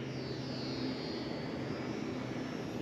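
An Eachine A6M Zero RC model plane motor runs at full throttle, giving a continuous steady drone with a thin high whine that drifts slightly in pitch throughout.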